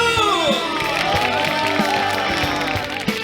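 A studio audience at a televised trot music show claps and cheers, with rhythmic hand claps on the beat and shouts under loud music playing throughout.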